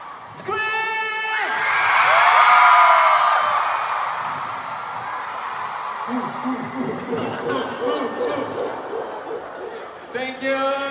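A concert crowd at a show in LA screams and cheers loudly, a big swell of shrieks that peaks and slowly tapers, with a performer's voice speaking over the start and end.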